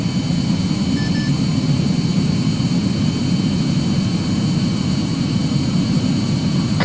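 In the Arma 3 combat game, a jet aircraft roars steadily and loudly as it takes off from a runway, a sustained low rumbling engine drone with no talking over it.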